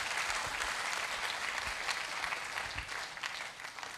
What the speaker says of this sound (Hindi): कि हम चाहेंगे इनके लिए भी एक जोरदार ताली हो जाए।